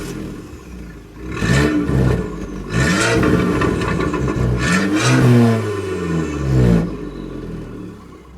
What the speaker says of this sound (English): The exhaust is also different and it sounds way better